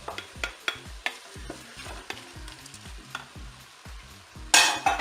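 Bell pepper strips stirred in a Cookeo pot, a repeated scraping stir with soft clatter over a steady low sizzle, plus a brighter burst of frying near the end.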